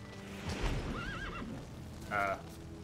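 A horse in The Witcher 3 gives a short whinny followed by a brief snort, close up over soft ambient game sound with a little clopping of hooves.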